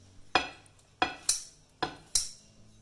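Knife slicing through crispy roast pork with crackling skin at a home dinner, five sharp crunchy cuts in an uneven rhythm, close and clear against a quiet background without talking.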